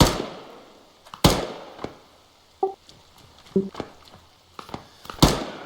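Gunfire in the military shooter Arma 3 comes as a handful of sharp, isolated cracks spaced irregularly over a quiet background, with two especially loud reports and fainter shots echoing between them.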